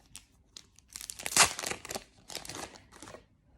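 Plastic wrapping being torn and crinkled open around BTS Army Bomb photo cards, a series of close, sharp crackling bursts with a loud rip in the middle, fading to softer rustles.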